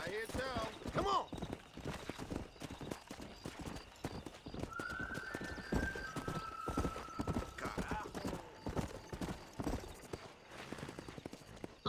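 Horse hooves clip-clop at a steady galloping rhythm in the Western video game Red Dead Redemption, close and continuous, with a horse whinnying and people talking over the hoofbeats.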